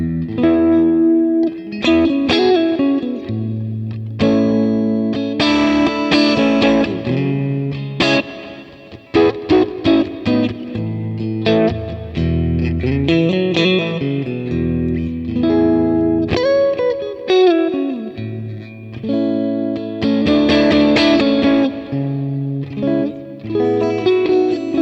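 Electric guitar chords played through a Kemper profiler with its chorus kiss effect on a clean tone, heard alone: ringing strummed chords that change every few seconds and have a lush, wide, faintly shimmering modulation.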